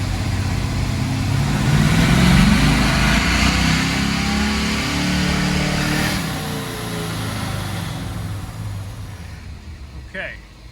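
A Chevrolet El Camino fitted with long-tube headers revs in second gear, the engine note swelling loudly and then tapering off, close by, with talk partly over it.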